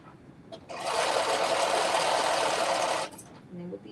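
A sewing machine stitches a strap on an off-the-shoulder dress, running in a single continuous buzz for a couple of seconds, loud and close, with brief quiet handling sounds before and after.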